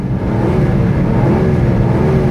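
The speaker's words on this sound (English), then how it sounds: "When you hear that engine growl up." A Rover P6 with a 3.5 V8 engine growls close by, a loud, steady, deep engine note held throughout the short clip without talk.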